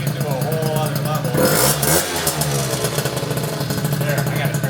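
A Honda Dio scooter engine with a 120cc billet stroker build revs loudly with a buzzing, clattering tone, rising in pitch briefly before settling, while a person speaks over it.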